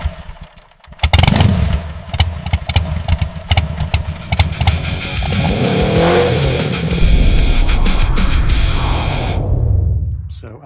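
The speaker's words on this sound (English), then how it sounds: "I've made a little test setup of this engine to show you that it actually runs. There is no exhaust, there is no cooling." An unmuffled Honda CX500 engine on a bare test stand, running with no exhaust and no cooling, catches after a brief start and then runs loud, harsh and close for about nine seconds before cutting out, with engine noise filling the whole stretch.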